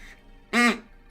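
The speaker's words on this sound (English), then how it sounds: "I also have my duck noise." A single duck quack sound effect, one loud, nasal honk of about a quarter second with clear harmonic bands, standing alone between quiet stretches.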